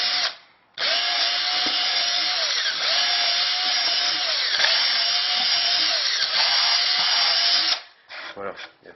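A power drill fitted with a bit bores into wood, a loud close steady whine running for about seven seconds with slight pitch dips under load, then stopping, followed by a few brief rattles.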